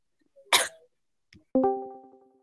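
A woman coughs once, a loud harsh burst near the mic, then after a brief pause comes a sharp tonal vocal sound with a ringing tail.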